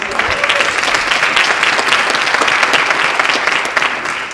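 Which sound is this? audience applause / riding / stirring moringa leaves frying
audience applause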